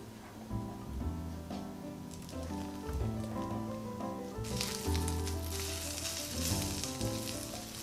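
Egg-battered jeon, Korean holiday pancakes with meat inside, pan-fry in oil over medium-low heat, giving a continuous crackling sizzle. Clattering and knocking sounds recur throughout, and the hiss grows brighter and louder in the second half.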